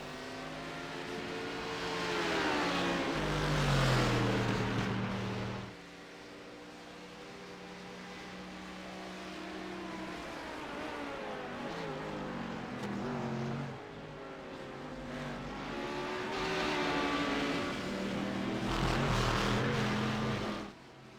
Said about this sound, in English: now he will try and get around McAllister as well in the all-blue Ford